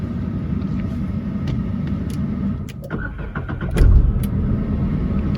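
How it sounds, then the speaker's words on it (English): A Renault Kwid RXT 1.0-litre, 1000 cc hatchback, a 2021 top-end model, cranks and fires up close by, a steady low engine rumble swelling briefly as it catches, then settling into a steady idle. "let me start the car"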